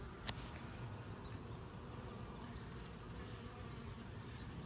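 Honeybees at an open nucleus hive during an inspection, some carrying full pollen baskets, give a steady low buzzing drone that runs throughout, with one brief sharp tap near the start.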